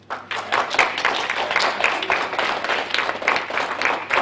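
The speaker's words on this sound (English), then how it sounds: "Round of applause, please." A small audience claps to welcome guests, a professor and students from a Salish language school, at a reading event; moderate, fairly steady clapping of a modest crowd, not especially loud.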